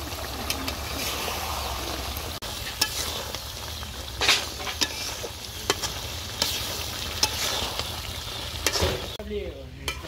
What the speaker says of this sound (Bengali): ঢাকনা দিয়ে ঢেকে কষে নিব